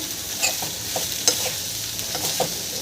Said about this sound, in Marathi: टमाटर घालायचं आहे आणि याला छान मिक्स करून घ्यायचं